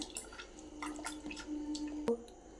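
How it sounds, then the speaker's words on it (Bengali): Water dripping and trickling while flour dough is washed by hand in a kitchen: faint, scattered drips and small splashes, a soft running trickle beneath, one sharper splash near the end. "জল দিয়ে ধুয়ে নিই ময়দাটাকে ভালো করে"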